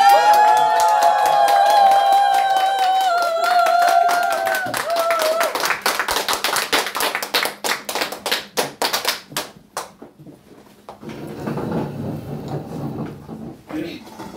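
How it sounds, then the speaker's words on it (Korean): Audience at a Korean lecture on microcurrent devices breaks into sustained applause as the lecturer comes on stage, a dense patter of many hands that thins out after a tonal passage at the start, with murmuring crowd noise near the end. "정말 환호한 박수로 정말 열심히 박수해주고"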